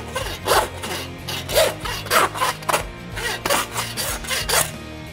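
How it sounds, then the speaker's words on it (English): Handsaw cutting through venison ribs, a run of rough, rhythmic rasping strokes, close and fairly loud, each push and pull clearly separated, with no talking. "just carefully take it off with a handsaw"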